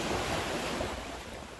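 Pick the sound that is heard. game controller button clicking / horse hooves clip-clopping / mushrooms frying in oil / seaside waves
seaside waves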